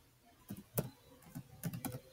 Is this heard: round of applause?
no